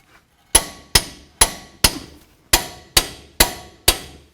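Eight sharp metallic clicks from a torque wrench reaching 148 foot-pounds on the front lower ball joint bolts of a 2007-14 Cadillac Escalade, evenly spaced and close up, with no talk.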